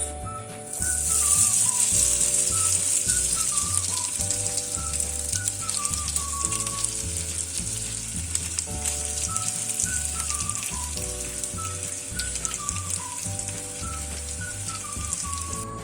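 Potatoes frying in hot oil with butter in a pan, a constant dense sizzle that holds steady throughout, with a faint melodic tune playing in the background and no speech.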